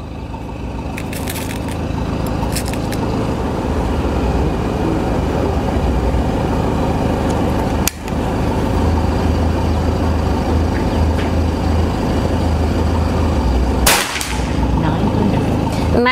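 A PCP Escobar air rifle fires its eighth shot, one sharp crack standing out against a steady loud background roar, with another sharper burst near the end.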